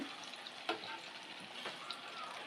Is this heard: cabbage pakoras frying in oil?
yes